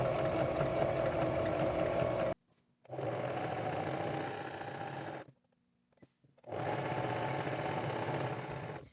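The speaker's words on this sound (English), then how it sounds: "I'm going to back stitch so that it can lock in the thread" A sewing machine stitches and back-stitches fabric for a mermaid gown, running in three close, steady bursts separated by short pauses, with no talking.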